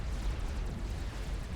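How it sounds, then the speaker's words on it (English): Artillery bombardment explosions in the strategy game Supreme Commander, a dense low rumbling roar of overlapping blasts lasting throughout, moderately loud with no clear gaps. "it's just artillery bombardment at this point"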